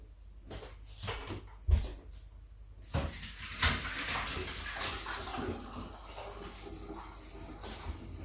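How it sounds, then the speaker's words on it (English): Salted vegetable relish being drained and rinsed under running water in a kitchen, with splashing and a steady stream of water after a few clanks and knocks of a strainer or pan. "I'm going to strain it off, give it a good rinse to wash the salt out"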